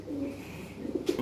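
A Lahore pigeon gives a brief, soft coo, a low murmuring call close by in a quiet setting.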